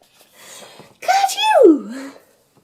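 A voice imitates a sneeze, a drawn-out 'ka-choo' with a rising intake and a sharp falling burst, read aloud in a bedtime story, clear and close after a softer breathy lead-in.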